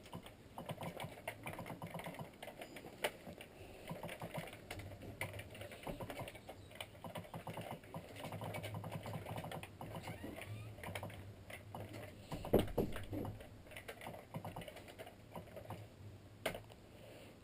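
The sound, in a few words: typing on a computer keyboard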